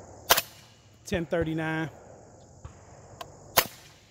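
Suppressed gunshots from a Gorilla suppressor at a gun range, a few sharp muffled cracks spaced apart over low ambient noise, with a short buzzing burst between them.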